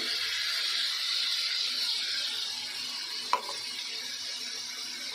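Cashew paste and soured curd hit a hot pan of prawn masala, giving a steady close sizzle and hiss with one brief clink of a utensil partway through and no talking.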